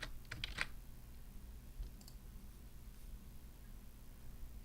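Faint keyboard typing while a bin number is entered into a management software form. A few quick clicks come near the start and one more follows shortly after, over a low steady background hum.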